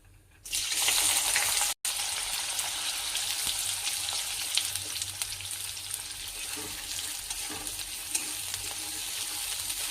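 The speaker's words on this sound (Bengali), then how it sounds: "ফার্স্টে আমি ক্যাপসিকামটাকে ফ্রাই করে নেব।" Capsicum dropped into hot oil and ghee for fried rice bursts into a loud, close sizzle that holds steady and bright, with occasional soft crackles and pops.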